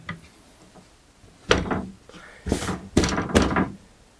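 A wooden workshop door swings open just past ninety degrees, giving a few loud knocks and thuds with short creaky scrapes, close by and without speech.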